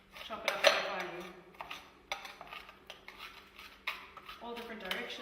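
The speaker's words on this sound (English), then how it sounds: "just get quite a big knife and just chop it up very finely" A large knife chopping Peppermint Crisp chocolate finely on a board, irregular quick taps and scraping cuts at close range, with a voice talking over it.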